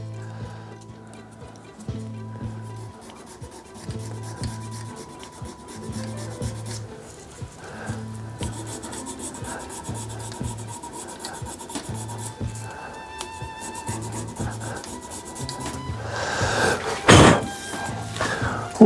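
Steady rubbing rasp of sandpaper against a spinning resin shave brush blank on a lathe, continuous and close, with a rhythmic low thumping pulse underneath and a louder scrape near the end.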